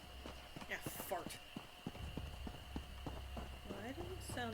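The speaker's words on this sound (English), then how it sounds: "There were distinctively 2 sounds of footsteps behind me." In Elder Scrolls Online, footsteps follow behind the player character as a run of quiet, rhythmic thuds and clops, with faint voice-like game sounds and a low background hum.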